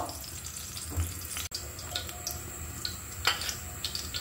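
Peanuts and raisins frying in ghee give a continuous close sizzle, with a few light clicks and scrapes of stirring and a brief sharp tap partway through, no voices.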